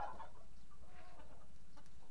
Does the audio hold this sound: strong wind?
no